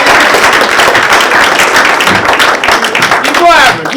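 A stand-up comedy showcase crowd at a theatre claps and cheers steadily as a comedian is brought on, a dense, close wash of applause with a voice talking over it throughout.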